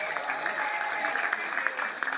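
Sustained audience applause at the curtain call of a theatre play, a dense wash of many hands clapping steadily for a couple of seconds, loud and close with no voices rising above it.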